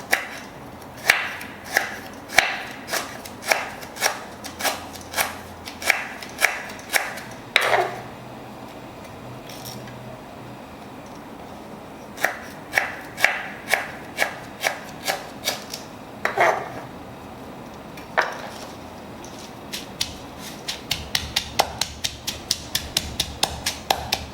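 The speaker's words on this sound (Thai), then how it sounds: "เหมือนกันซอยบางๆนะครับ เราใช้ตะไคร้สักสามหัวก็พอนะครับ" A knife thinly slices lemongrass on a cutting board in steady runs of crisp taps, pausing briefly before resuming faster near the end.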